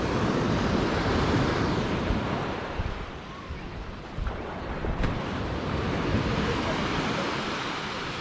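Calm ocean surf at San Pancho beach in Mexico, a constant close wash of waves with wind noise rushing across the microphone.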